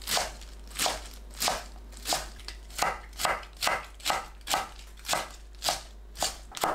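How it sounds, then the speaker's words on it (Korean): A knife chops washed spring cabbage (bomdong) on a cutting board, about a dozen crisp, evenly spaced crunching strokes, close and clear with no talking. "씻은 봄동을 썰어주세요. 큰 잎은 반 가르고 썰면 됩니다."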